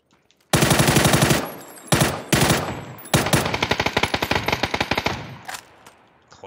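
Shotgun fire in the video game PUBG: loud, close bursts of gunfire with a brief pause between volleys, then a longer rapid string of shots that gradually thins out and fades.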